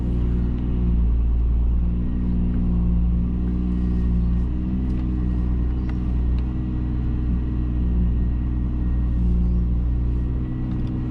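A car with a direct twin-plate clutch drives along, its engine a steady loud low rumble throughout with mild changes in pitch and no speech over it.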